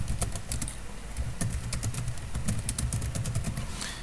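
Steady keystrokes on a computer keyboard while code is entered for a Django Channels chat application, a continuous run of close, crisp clicks with no voices.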